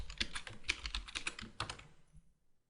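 Someone types a password on a computer keyboard, a quick, close burst of light key clicks lasting about two seconds before it falls quiet.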